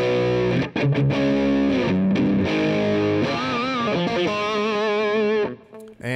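An electric guitar on its bridge and middle pickups plays through a Boss DS-1 distortion pedal with a Monte Allums Tri Roxx Plus mod, cranked all the way up. Loud, sustained, saturated chords and bending notes ring out alone.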